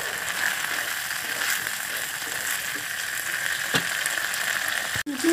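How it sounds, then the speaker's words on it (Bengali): Chopped onion and capsicum being stirred with spices in a pan for chilli chicken, a steady broadband frying sizzle throughout with a couple of sharp utensil clicks near the end. "খুব ভালো করে পেঁয়াজ কুচি আর ক্যাপসিকাম কুচিগুলোকে মশলার সঙ্গে নেড়ে চেড়ে নেব"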